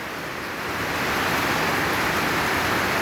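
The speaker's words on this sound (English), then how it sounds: "There is water just running down here." Flash-flood water rushes past the front of a container house during heavy rain, a loud, steady broadband roar that swells slightly in the first second and then holds constant, with no voices.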